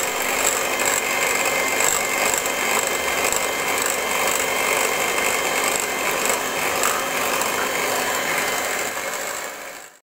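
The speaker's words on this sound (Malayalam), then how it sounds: "മുക്കാൽ കപ്പ് പഞ്ചസാര കുറേശ്ശെയായിട്ട് ഇട്ട് കൊടുത്തിട്ട് നല്ലപോലെ ഒന്ന് ബീറ്റ് ചെയ്തെടുക്കും" An electric beater whisks eggs with sugar added a little at a time for a snow pudding, giving a loud, steady mechanical whir with a rattling edge that runs without a break.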